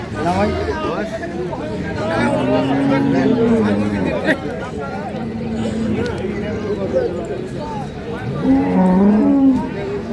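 Cattle, dairy cows with calves, moo loudly twice amid a busy cattle market, with a crowd chattering steadily around them.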